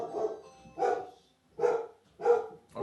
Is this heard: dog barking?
yes